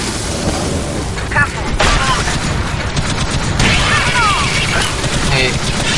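Video game Alien Swarm gunfire, loud bursts and booming impacts layered with mechanical clanks, while voices talk over the chaos.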